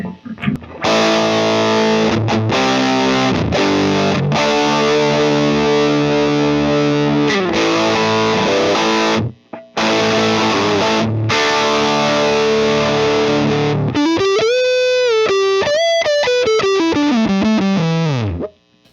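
Electric guitar through a TopHat Rialto Reverb amp on high gain with brite, EQ and reverb off, loud distorted chords ringing out, a brief gap, then a sustained bending lead line.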